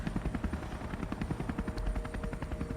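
A helicopter sound effect plays alone, its rotor thumping in a fast steady pulse with a broad engine roar underneath, close and continuous.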